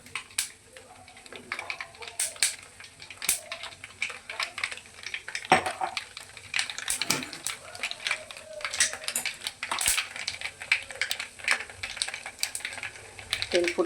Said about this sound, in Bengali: সর্ষেগুলো এবার চটপট করছে, তেলটা বেশ ভালো হয়ে গরম হয়ে যাবে।